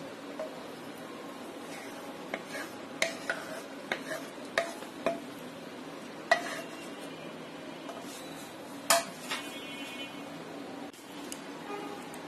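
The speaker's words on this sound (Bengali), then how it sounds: "এখন আমি একটা বাটিতে ঢেলে নিচ্ছি।" A fried barbecue sauce mixture for chicken wings is tipped from the pan into a bowl, with a soft wet background hiss and a series of sharp spoon scrapes and clinks against metal.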